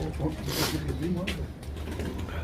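Pigeons coo softly in the background from a pigeon coop while people talk over them nearby.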